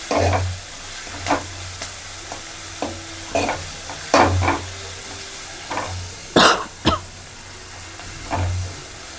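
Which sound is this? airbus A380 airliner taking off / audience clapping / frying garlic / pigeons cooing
frying garlic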